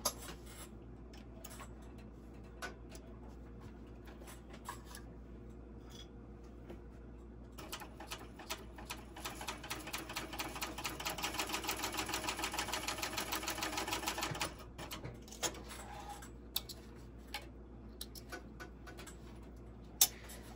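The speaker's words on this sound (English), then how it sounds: "take these 2 short ends and match them up and stitch them at 3/8 of an inch" A sewing machine stitches the short ends of a bucket bag together with a 3/8-inch seam. A fast, even mechanical whir runs for several seconds, framed by scattered clicks and ticks of handling before and after.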